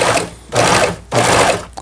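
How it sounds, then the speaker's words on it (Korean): A Pfaff 6110 sewing machine stitching a programmed edge pattern in fast, loud bursts close by, two long runs of whirring with a brief pause between them and no talking. "박음질이 되고 있습니다."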